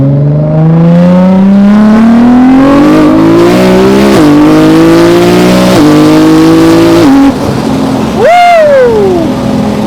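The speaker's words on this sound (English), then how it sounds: "I'm gonna get the window open so we can hear the exhaust" A 1350-horsepower Nissan GT-R's exhaust roars as it accelerates hard, pitch climbing through several gear shifts, then lifting off with a falling whine, loud and close.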